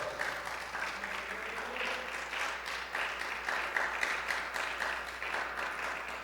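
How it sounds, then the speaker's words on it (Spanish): A church congregation claps steadily and fairly loudly for several seconds, a dense, even patter of many hands with no pause. "denle un aplauso al Señor por eso"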